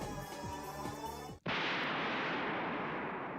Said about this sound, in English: An explosion shook the air.